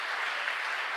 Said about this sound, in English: Can you give us a round of applause for that?